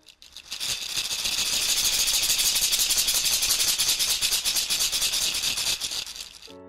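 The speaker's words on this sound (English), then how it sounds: "This is a shikere, a beautiful instrument from Africa that makes a sound like this." Shekere, an African rattle instrument, shaken in a steady fast rhythm, a dense bright rattling swish that swells in and holds for several seconds before cutting off, close and alone.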